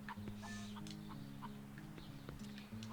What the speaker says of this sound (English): It's clearly a chicken